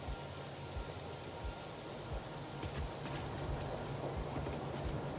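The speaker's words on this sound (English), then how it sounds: "It's raining again." Steady rain hisses continuously in the factory-building video game Satisfactory, an even, moderately quiet wash with no voices over it.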